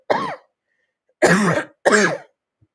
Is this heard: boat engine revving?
no